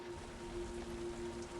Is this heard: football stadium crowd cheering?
no